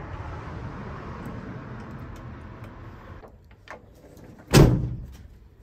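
A Land Rover Defender door shuts with a single loud, close slam near the end, preceded by a low idling rumble that drops away and a few small clicks.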